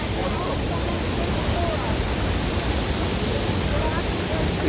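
Duden waterfall on Turkey's Mediterranean coast roars in a constant, dense rush of falling water, loud and close, with no break across the clip.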